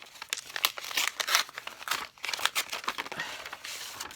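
Paper envelope opened and handled up close, a dense run of crinkling, rustling and tearing sounds in irregular bursts, soft overall with no talking.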